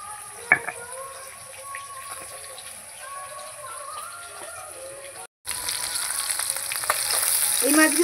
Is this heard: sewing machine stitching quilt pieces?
no